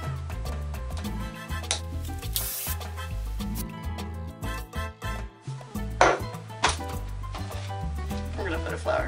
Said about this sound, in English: hairspray it all